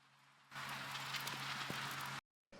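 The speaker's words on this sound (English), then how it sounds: "Like I said, it's just some samples of rain." Quiet rain recorded as a background texture for ambient music: a soft, steady hiss that rises after a short pause, runs evenly, then cuts out and briefly returns.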